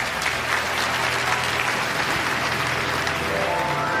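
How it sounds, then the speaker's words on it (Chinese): A studio audience at a television talk show claps steadily, a dense, even wash of applause from many people that carries on throughout without pause. "掌声欢送他"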